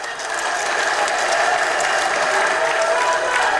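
Loud, sustained applause from a large audience at the Endrendrum Punnagai film audio launch event, a steady wash of many hands clapping with no talk over it.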